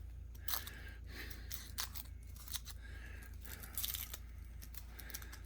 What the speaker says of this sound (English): I'm gonna take this paper off.